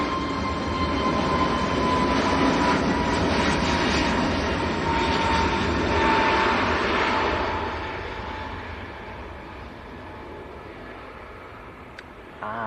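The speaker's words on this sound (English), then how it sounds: "here goes the EasyJet A321 Neo" An EasyJet Airbus A321neo at Manchester Airport gives off a strong, even engine rumble that holds for several seconds and then gradually fades as it moves away.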